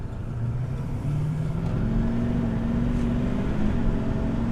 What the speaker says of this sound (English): we can do one more full throttle push just to make sure we're getting full boost here